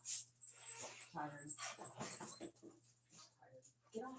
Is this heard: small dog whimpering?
yes